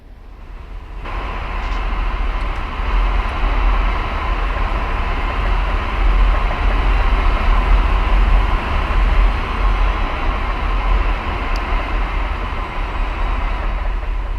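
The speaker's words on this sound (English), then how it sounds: "there's another train coming in?" A train pulls in within the Run8 train simulator game, a steady loud rumble with low-end roar and rail noise running continuously and alone.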